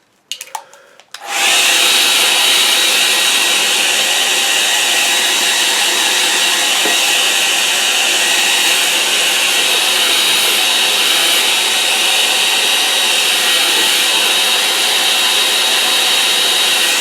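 A hair dryer blows on a watercolour painting of late autumn leaves, switching on after a second of handling noise and then running loud, steady and close for the rest of the time with no voices.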